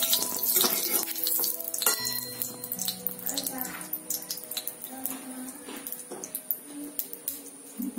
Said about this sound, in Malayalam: അപ്പം നമുക്കിനി ഇത് തേങ്ങ വറുക്കാൻ നാളികേരം കുറച്ച് വറുത്തെടുക്കാം